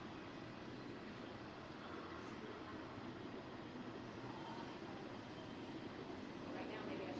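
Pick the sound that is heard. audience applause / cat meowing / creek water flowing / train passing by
train passing by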